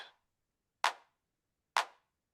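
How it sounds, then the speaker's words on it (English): Three crisp, clean clap samples from an Ableton Live track, each a short bright snap with a quick decay, spaced evenly about a second apart against silence. "This clap is super clean, simple."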